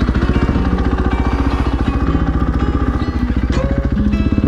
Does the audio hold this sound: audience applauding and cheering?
no